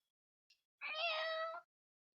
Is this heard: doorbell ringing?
no